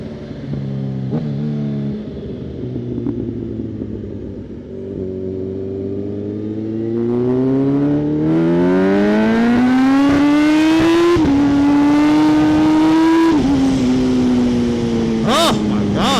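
A Kawasaki ZH2 motorcycle accelerates hard through a turn while wheelying, its engine note climbing steadily in pitch to a loud, close scream with brief gear-change dips, and people talking over it.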